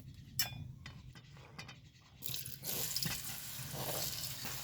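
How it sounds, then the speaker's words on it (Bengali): Small cut potato pieces drop into hot oil for a curry, and a bright sizzling hiss starts partway through, then holds steady over quieter kitchen noise. "এবার গরম তেলে আলুটা দিয়ে দিব"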